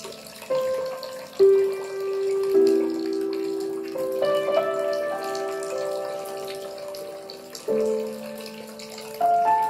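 Water pours from a small container into a larger one during a congregation's water ceremony, with several separate pours. The ringing pitch rises as the vessel fills, clear and close, with no talk.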